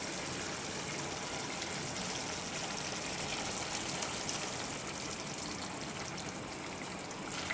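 Thick first-press coconut milk pours steadily into a simmering Kerala-style chicken curry, a continuous soft, even wash of liquid with no pauses and no talking.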